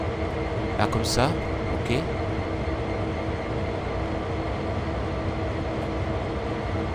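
Locomotive in the Train Sim World 3 game on the Sand Patch Grade route: a steady low rumble and hum of a passing engine runs throughout, with a person speaking briefly over it near the start.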